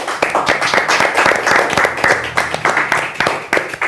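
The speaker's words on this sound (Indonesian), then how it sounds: "Beri tepuk tangan yang meriah untuk" Studio audience clapping for a guest on a podcast, a brisk, close burst of individual claps with a rough uneven rhythm, fairly loud and continuous throughout.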